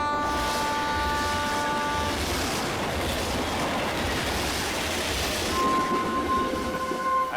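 A railway train runs steadily and loudly throughout, with continuous rolling rumble and wheel noise and a sustained horn-like tone near the start and again near the end.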